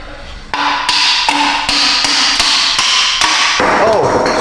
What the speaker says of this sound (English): I got the hammer right here.